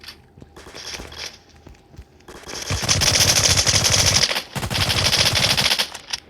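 Automatic gunfire from the rec.o.r.d video game comes in loud, rapid bursts, with a short burst early on, then sustained rattling volleys that pause briefly before continuing.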